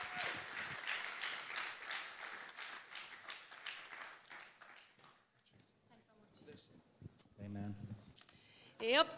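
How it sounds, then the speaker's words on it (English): A church congregation in Cork claps to welcome guests at a Sunday morning service, a sustained patter of applause that fades into scattered claps, then talk and a few louder sounds near the end. "please give them a great clap and welcome them into your hearts this morning"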